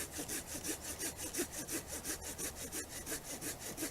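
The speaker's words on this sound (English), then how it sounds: "So I'm going to cut a little round out of this." Hand saw cutting a small round from a piece of wood for a bow drill bearing block, a steady back-and-forth rasp of regular strokes, close and alone.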